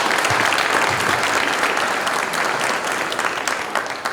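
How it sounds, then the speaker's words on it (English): A school assembly audience claps for six state championships at a State of the School event, steady dense applause that fades gradually toward the end. "How about a round of applause for"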